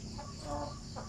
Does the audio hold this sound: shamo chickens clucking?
yes